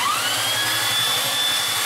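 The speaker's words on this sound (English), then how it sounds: "what I'm going to use for that is a belt sander" A belt sander levelling the tops of a steel sailing yacht's cabin sole gives a steady, loud abrasive whir with a continuous high whine, running unbroken and close up.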